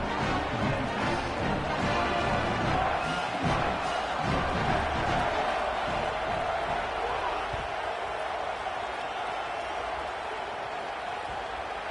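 Home crowd at a football game roaring and cheering from a distance, a dense sustained wash of stadium noise that gradually eases, with no clear voices standing out.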